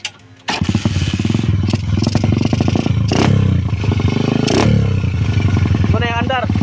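A motorcycle fitted with a 28mm carburetor revs loudly and close up for a sound check, its engine rising and falling in repeated throttle blips over a steady idle, with people talking over it.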